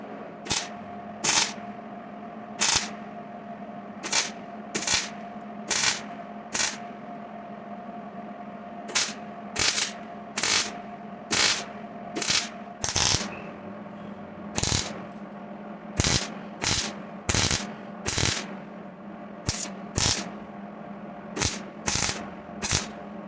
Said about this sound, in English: Go ahead and weld this thing in.